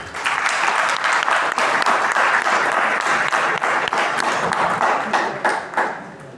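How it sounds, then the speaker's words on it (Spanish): Audience applause welcomes a speaker at a university symposium on Andean indigenous resistance, a dense, steady burst of many hands clapping close by that carries on for several seconds before easing slightly at the end. "La recibimos con un aplauso, por favor."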